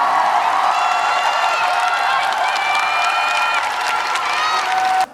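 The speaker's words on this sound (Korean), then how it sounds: "다시 한번 큰 박수 부탁드리겠습니다" A studio audience applauding and cheering on a Korean TV variety show, a dense sustained wash of clapping with scattered whoops that stops abruptly at the end.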